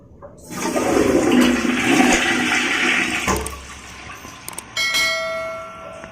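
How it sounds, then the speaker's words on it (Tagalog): Toilet bowl flushing while being unclogged: a loud rushing surge of water lasting a few seconds, then tapering into gurgling and trickling refill with a couple of clunks at the end. "ipa flush una, ipa flush ipa-flash muna natin siya"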